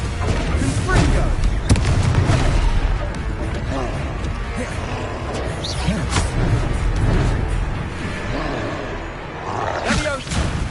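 Repeated Confringo fire-spell blasts in Hogwarts Legacy, several booming explosions and crashes scattered through a dense combat mix, with a voice shouting spell names over them.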